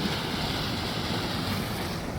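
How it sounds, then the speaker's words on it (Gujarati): Water from two rivers rushing past in a strong flow, a loud steady roar with no pauses. "આ બે નદીનું પાણી આટલું આવે છે"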